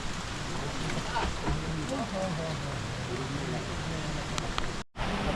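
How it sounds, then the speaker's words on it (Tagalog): Heavy rain roars steadily as a dense, constant wash of noise, with faint voices murmuring underneath and a brief dropout near the end. "grabing ulan po, ano?"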